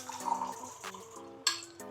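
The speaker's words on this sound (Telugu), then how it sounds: "ఇదిగోండి ఇప్పుడు డైరెక్ట్గా మున్సిపాలిటీ వాటర్ తీసుకుంటున్నాను ఇక్కడ." Municipal tap water runs into a vessel, testing a Kent Grand Star purifier, with clinking of cutlery and containers, uneven splashing, a sharp knock near the end and no talk.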